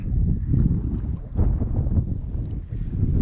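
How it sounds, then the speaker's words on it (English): Gusting wind buffets the microphone at a lakeside canal at Lewisville during spring fishing, a loud, continuous low rumble that swells and eases without a break. "the wind picking up"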